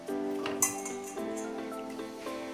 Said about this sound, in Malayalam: കുക്കറിലേക്ക് നമുക്ക് കുറച്ച് ചിക്കൻ കഷ്ണങ്ങൾ ഇടാം